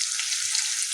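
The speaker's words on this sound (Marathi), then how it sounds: "आता तळून घेते" Food frying in a pan: a steady, bright, close sizzle of hot oil, continuous and even throughout.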